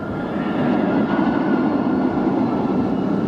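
A loud, steady rumbling roar of a full roller coaster train rolling along the track at Six Flags Over Texas, constant throughout with no voices.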